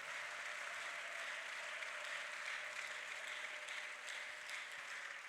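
Congregation applauding during a church prayer service, a steady wash of distant clapping from many hands, faint and even throughout.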